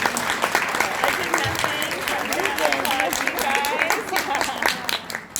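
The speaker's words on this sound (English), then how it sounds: "Rochelle, Rachel, Samantha, and Erin, can you give them a round of applause for making" An audience at a farewell party in Daegu, South Korea claps in loud, steady applause with scattered cheers and voices over it, fading slightly toward the end.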